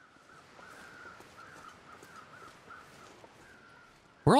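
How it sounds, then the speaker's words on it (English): Crows cawing in the survival game The Long Dark, with repeated harsh calls at a moderate distance over a quiet background, ending in a sudden loud burst of sound. "Where are all these crows?"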